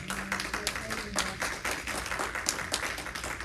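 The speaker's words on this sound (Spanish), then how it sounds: "¿Hay alguien que puede celebrar con un fuerte aplauso esta palabra?" A church congregation applauds during a sermon, with scattered sharp claps forming a moderately loud, uneven burst and a little voice mixed in early.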